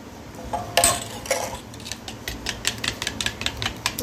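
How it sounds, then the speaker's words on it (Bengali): Milk being whisked into beaten eggs in a bowl for an egg pudding, heard as a run of quick, light clinking taps of utensil against the bowl that speed up toward the end, close by with no talk. "এই দুধটা আস্তে আস্তে করে দুধের সাথে মানে ডিমের সাথে মিলাবো"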